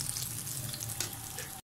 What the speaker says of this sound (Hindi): ऊपर हम 4 मिनट के लिए एक तरफ और 4 मिनट के लिए हम इसको दूसरी तरफ डालकर फ्राई कर लेंगे।